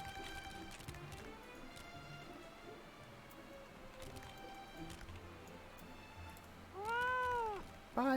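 A cat in the Final Fantasy XIV online game lets out a couple of clear, close meows near the end, after quiet game ambience with soft clicks and chimes.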